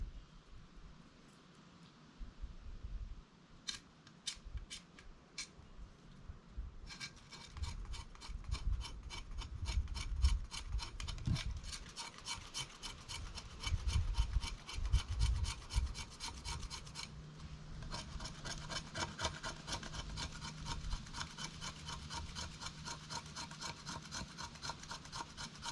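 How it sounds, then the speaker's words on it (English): A kukri carves shavings from fatwood, producing repeated close scraping strokes that build to a steady rasping rhythm against faint ticking. "Let's get some fat wood shavings."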